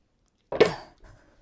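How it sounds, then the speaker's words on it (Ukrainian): A single sharp metallic clatter of a lid set down on a pot of pea soup still boiling after coming out of a wood stove, followed by a faint low rumble and light clinking. "Чекай, поставлю кришку, бо дуже гаряче."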